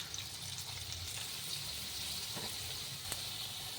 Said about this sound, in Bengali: ওই তেলেই কিছু আলু ভেজে নিচ্ছি, লম্বা করে কাটা